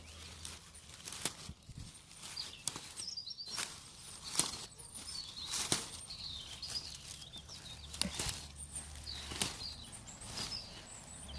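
Sharp crisp snaps of tender young garlic mustard stems breaking, several scattered pops at irregular intervals, close by over a faint outdoor background.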